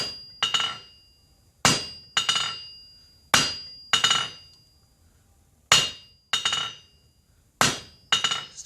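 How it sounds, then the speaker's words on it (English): A hammer's round face strikes silver half on, half off the side of an anvil, forging a ring leaf: about ten sharp ringing blows, often paired in quick doubles, each with a short metallic decay, close and clear with no talk. "Half on, half off blows with the round face of the hammer off the side of the anvil."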